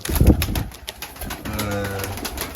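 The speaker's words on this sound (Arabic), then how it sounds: "زين فهاي الطيور هسه صارن بيد امينه" Racing pigeons coo in low, soft bursts close by, with a louder flutter at the start and steady murmuring coos continuing through the rest.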